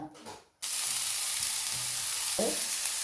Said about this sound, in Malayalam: എന്താ ചട്ടിയിൽ ഇത്രയും ചൂടിലിട്ടിട്ട് തന്നെ വെളിച്ചെണ്ണ